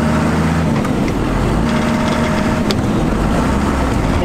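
Car with a manual transmission running loud and close with a steady rumbling engine drone and broad road noise, a faint clunk briefly marking a gear change.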